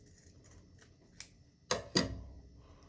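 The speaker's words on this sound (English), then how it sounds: "you're going to take your scissors and try to use as much of the felt as possible" Scissors snip through felt while cutting leaf shapes for a craft kit: a few faint clicks early on, then two close, crisp cuts in quick succession near the end.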